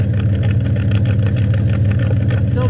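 Car engine running roughly and straining with a frozen tailpipe, a loud, steady low rumble with a pulsing, uneven chug close by, no talk over it.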